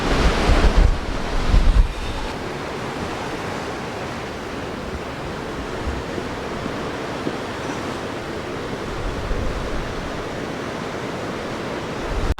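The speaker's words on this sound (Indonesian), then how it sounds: "Anginnya masih kencang, ini nggak tahu suaranya kedengeran apa enggak." Strong wind roars steadily across a mountain summit on Gunung Bismo, buffeting the microphone with loud, continuous rushing noise and a few heavier gusts at the start.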